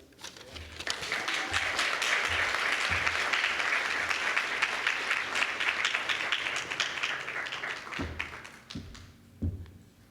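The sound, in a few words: audience applause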